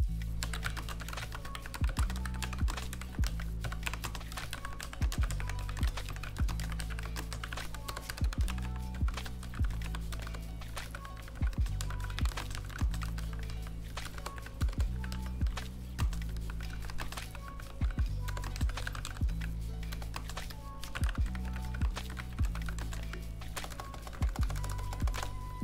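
Steady typing on a Logitech MX Mechanical keyboard with tactile switches, a soft, quiet patter of keystrokes in uneven bursts with brief pauses between them, recorded close and alone.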